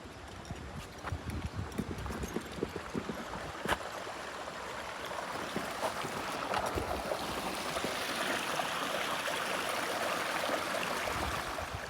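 A river flows behind a house in rural Japan, with a steady rushing wash of water that grows fuller over time, punctuated by scattered crunchy footstep-like knocks in the first half.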